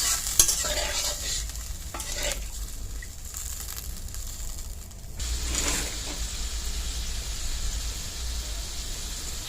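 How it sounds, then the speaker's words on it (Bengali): Fish curry gravy for pabda macher jhal bubbling in a pan, a continuous close sizzling and churning hiss with a few clattering stirs near the start and middle, no talk. "ঝোল ফুটে উঠেছে"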